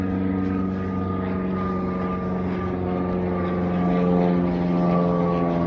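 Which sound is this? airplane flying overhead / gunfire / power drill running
airplane flying overhead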